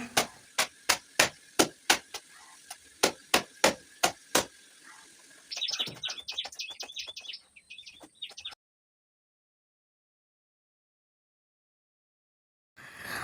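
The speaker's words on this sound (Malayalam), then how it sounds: "പിന്നെ ഇതേ കുറച്ച് തുണി മുക്കി വെച്ചിട്ടുണ്ടായിരുന്നു അതൊന്ന് അലക്കി എടുക്കട്ടെ കേട്ടോ" Soaked clothes are washed by hand: a series of about a dozen sharp, evenly spaced slaps, followed by a few seconds of rapid scrubbing, then silence.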